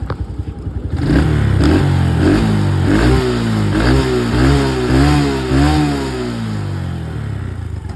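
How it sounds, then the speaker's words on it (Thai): A Kawasaki KSR motorcycle engine, offered for sale, starts and revs close by: a loud burst of repeated throttle blips rising and falling several times, then settling back to a steady idle. "เครื่องไม่ดังฟันไม่ไหลนะครับ อ่าเดี๋ยวมาฟังรอบเบิ้ล"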